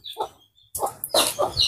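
A hen clucks in a series of short, bright calls with brief pauses, close and fairly loud, in an outdoor yard being swept and cleaned.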